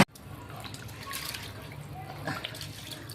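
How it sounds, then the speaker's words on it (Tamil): Water trickles and splashes softly as rice is washed in a container for beef biryani, with intermittent swishing and dribbling sounds close by. "அதுக்குள்ள வந்து நம்ம அரிசி கழுவிடலாம்."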